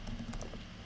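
Rapid keystrokes on a computer keyboard while code for a JavaScript web project is typed, a dense steady patter of close clicks over a low background hum.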